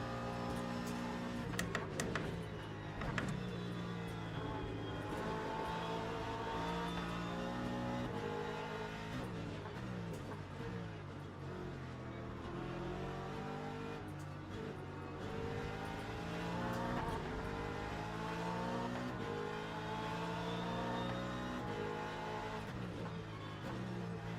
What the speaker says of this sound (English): Not the worst car to be stuck behind sound-wise, is it?